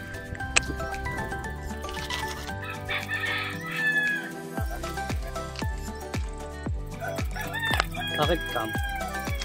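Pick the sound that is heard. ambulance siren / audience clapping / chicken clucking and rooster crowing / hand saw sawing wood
chicken clucking and rooster crowing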